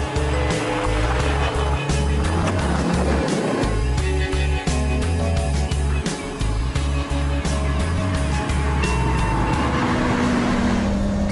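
A Bugatti EB110 sports car driving hard, its engine roaring loud and continuous from up close with shifting revs and a steady dense drone throughout.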